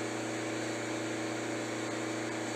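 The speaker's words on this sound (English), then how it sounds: "It's revving nicely, revving cleanly." Vauxhall Zafira diesel engine held at raised revs during a forced DPF regeneration, a steady, even drone with no rise or fall, fairly faint and heard without talk.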